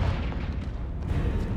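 Confringo fire spell blast in Hogwarts Legacy, a low, rumbling explosive burst that rolls on without a break, fairly soft, with no voices.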